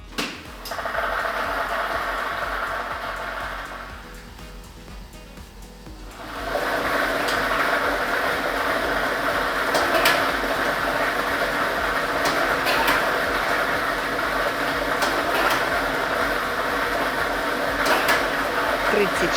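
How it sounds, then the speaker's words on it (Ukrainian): A lottery ball draw machine runs with a steady, loud whirring blower rush. After a brief quieter lull it starts up again and continues, with faint rattles and clicks from the tumbling balls. "І ми вмикаємо лототрон"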